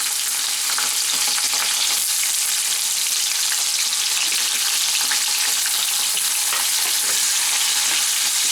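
Cut potatoes fry in a pan of oil over whole cumin seed tempering, making a dense, even, close sizzle that holds steady throughout with no talk.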